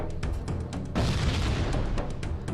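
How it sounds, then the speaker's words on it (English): A frag grenade explodes in Halo: Combat Evolved, a loud full-band boom with a sustained rumbling roar that fills the scene for over a second and a half, over a background of game noise. "Big fireball explosion that lights up the environment."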